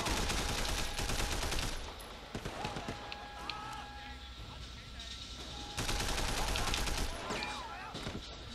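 Sleeping Dogs shootout with a rattle of gunfire in two loud stretches at the start and end, quieter scattered shots and game sounds in between, fairly close and without talk.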